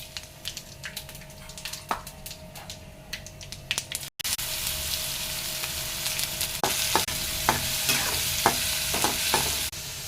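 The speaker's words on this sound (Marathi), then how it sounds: "पोह्यासाठी थोडेसे शेंगदाणे भाजून घेऊया" Peanuts roast in a pan with mustard seeds and cumin, giving a steady crackling sizzle that grows louder and denser partway through, with scattered sharp pops and a few spoon-scraping clicks, heard alone.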